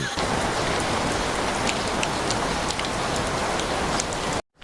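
Steady, heavy rain pours down in a dense continuous hiss with scattered drop patters, cutting off abruptly at the end.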